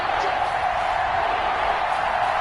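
A stadium crowd in a PS4 American football game, Dallas Cowboys on the field, gives off a steady, dense roar that holds at an even level without distinct cheers or peaks.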